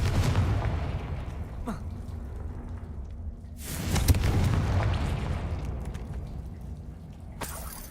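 Blasting spell explosions in the video game Hogwarts Legacy, a few booming bursts that roll off into rumble, with a voice shouting between them.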